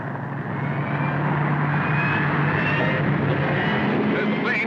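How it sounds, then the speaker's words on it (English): A propeller airplane flying overhead in Africa, a loud continuous droning engine rumble with a steady low hum, holding strong throughout. "There's the plane."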